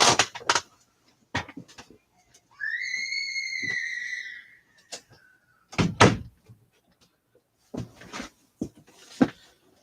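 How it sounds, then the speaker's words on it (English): A door creaks on its hinge in a long squeal, then shuts with a few knocks and thuds nearby, with scattered handling clatter before and after and no talking. "So let me close this door."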